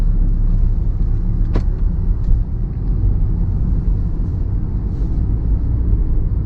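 Lamborghini Huracan Spyder pulling away in automatic mode, a steady low engine rumble with a brief sharp transient as a gear changes, heard from inside the car with no talking.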